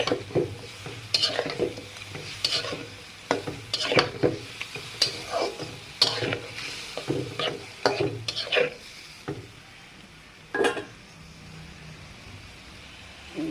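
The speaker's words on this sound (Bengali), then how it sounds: "এবার আমি মাছগুলো দিয়ে কষিয়ে নেব সুন্দর করে।" Tengra fish being fried and stirred with spices in a pan, cooked with green banana: repeated scraping stirs over a steady sizzle, close and fairly loud, with no talk.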